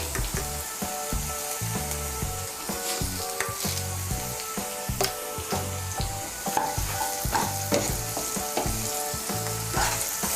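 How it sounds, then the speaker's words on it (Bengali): Fried vegetables and sugar sizzling in a pan for fried rice while a spatula stirs them in steady, close scraping strokes, loud and continuous with no voices. "চিনিটাকে ভালো করে মিশিয়ে নেব"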